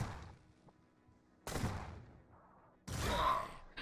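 Twitch Shot gunfire in the tactical game Mutant Year Zero, three separate heavy shot bursts, each with a sharp crack and a fading tail, spaced about a second and a half apart over quiet background.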